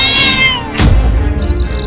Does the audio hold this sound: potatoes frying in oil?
no